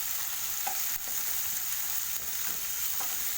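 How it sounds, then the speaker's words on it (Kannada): Chopped onions frying in oil in a pan, giving a steady, bright sizzle throughout. Faint stirring scrapes break through now and then. "ಇವಾಗ ನಾವು ಅದೇ ಪ್ಯಾನಿಗೆ ಸ್ವಲ್ಪ ಎಣ್ಣೆ ಮತ್ತು ಕಟ್ ಮಾಡಿದ ಈರುಳ್ಳಿಯನ್ನು ಸೇರಿಸ್ಕೋಬೇಕು."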